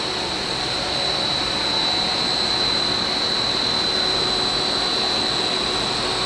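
A film blowing extrusion machine's rotary die runs with a steady, loud mechanical whir and a constant high tonal whine, unchanging throughout with no voices.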